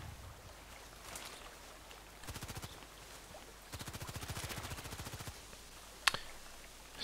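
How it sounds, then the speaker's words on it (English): Gunfire in the online shooter Contract Wars at a lighthouse, with two bursts of rapid repeated shots and then a single sharp crack, all fairly faint and distant over quiet background noise. "He's already shooting."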